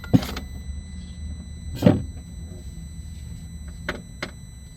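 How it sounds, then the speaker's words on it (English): A Peugeot 107 semi-automatic clutch actuator motor whirs in short bursts: a couple of longer runs and then quick brief pulses, close up with a steady hum underneath; the car will not move. "You see, the clutch actuator is working. It's working, but car not moving."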